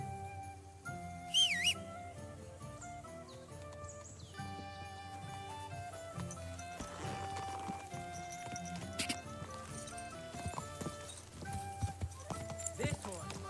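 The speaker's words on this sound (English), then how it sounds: "Horse!" Horse hooves clip-clop in a steady trotting rhythm in Kingdom Come Deliverance 2, close and moderately loud, with whistling and talking over it.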